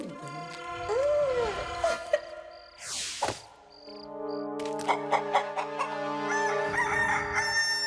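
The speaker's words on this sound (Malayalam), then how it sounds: "ഉറുമ്പുകളുടെ ലോകത്തും കോഴി കൂവാറുണ്ടല്ലേ?" A cartoon rooster crows loudly in a long cock-a-doodle-doo, standing alone over a bright animated soundscape with chirping insects, a whooshing sweep and a musical cue in an ant-world scene.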